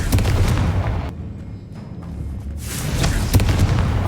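Confringo blasting spells go off in Hogwarts Legacy: loud low booms at the start and again near the end, separated by a brief quieter gap, with no talking.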